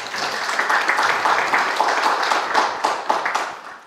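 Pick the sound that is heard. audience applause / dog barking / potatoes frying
audience applause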